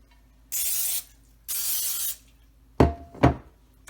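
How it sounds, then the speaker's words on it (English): Cooking spray hisses in two steady bursts of about half a second each, coating the sides and bottom of a casserole dish, followed by two sharp knocks close by in an otherwise quiet kitchen. "I'm going to coat it all sides and the bottom with cooking spray."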